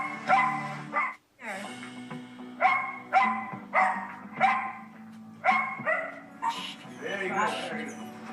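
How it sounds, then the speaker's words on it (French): A dog named John Henry barks repeatedly in a series of sharp, loud barks and yips close by, with brief whimpers between bursts, at an irregular rhythm. "John Henry s'est mis à aboyer"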